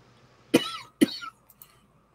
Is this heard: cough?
yes